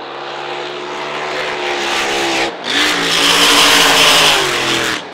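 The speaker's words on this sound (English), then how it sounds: "Sounds very strong. Brett Nidri Racing engine in this particular boat." A racing powerboat with a Brett Nidri Racing engine runs hard during practice at the Windsor Spectacular, a loud, steady engine roar that drops briefly midway before surging back up.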